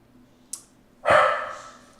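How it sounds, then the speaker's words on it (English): A single loud dog bark rings out indoors, close by, after a brief sharp click, then the room falls quiet. "She likes to bark at it."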